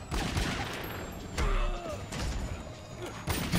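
Gunfire in the fighting game Mortal Kombat (2011), a few sharp game gunshot blasts with short impacts and mechanical clanks between them, heard alone.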